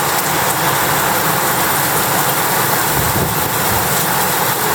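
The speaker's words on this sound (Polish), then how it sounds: "Pada bardzo mocno, wreszcie." Heavy rain with some hail pouring down outdoors, a loud, steady, dense hiss of drops on surfaces that stays constant for the whole stretch, with no voices.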